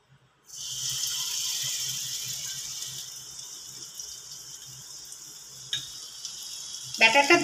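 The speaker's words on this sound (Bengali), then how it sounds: "এতে তেল গরম করেছি, এবার এই ব্যাটারে ডিমগুলো চুবিয়ে ভাজবো।" Batter-dipped egg pieces go into hot oil, and a bright, steady sizzle starts suddenly and then slowly fades. A sharp utensil tap comes near the end, with no talking.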